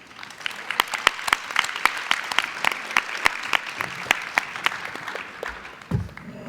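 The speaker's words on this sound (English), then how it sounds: "Please, let's have a round of applause for our panel." A modest conference audience claps for a medical panel, sparse, distinct hand claps ringing out over a soft bed of applause for several seconds before a brief voice.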